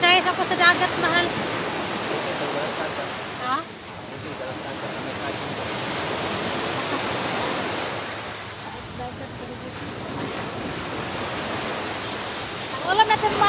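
Sea waves wash steadily onto a beach during a seaside picnic, a continuous broadband surf roar that swells and eases in slow surges, fairly close and filling the scene with no clear speech.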